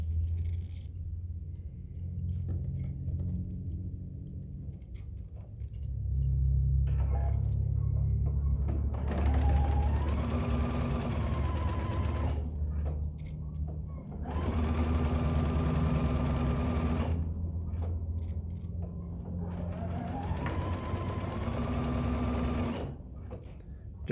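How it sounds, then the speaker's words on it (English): A sewing machine stitches two fabric halves of a spiderweb table topper together, running in three steady, fairly loud whirring bursts with brief pauses between, over a low background rumble. "we are just going to sew our two halves together"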